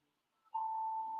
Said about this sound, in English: sorry, my alarm went off.